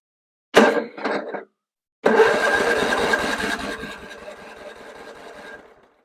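A John Deere STX38 lawn tractor's small engine cranks after a carburetor cleaning: a brief stuttering burst, a pause, then a longer loud cranking run that slowly weakens and trails off without catching.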